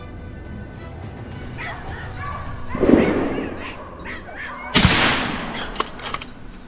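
Hunting dogs barking during a wild boar hunt on a hillside, a few sharp barks and yips among outdoor background noise, with one loud sharp burst standing out near the end.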